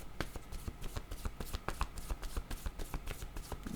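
A deck of playing cards is shuffled in a steady run of crisp riffling flicks and soft slaps, close and fairly loud, with no voices.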